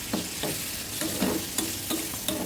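Chopped onions frying in hot oil with raw prawns, a continuous sizzle broken by repeated scraping strokes of a stirring spoon.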